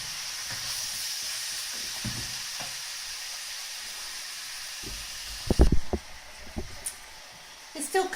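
Steak stir fry sizzling in a pan, a steady broadband hiss running throughout with occasional clatters and stirring knocks, while a person talks intermittently nearby.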